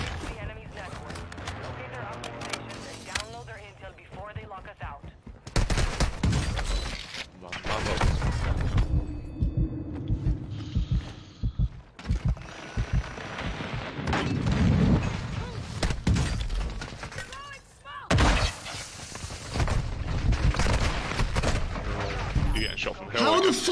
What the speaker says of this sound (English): are they still shooting me through there?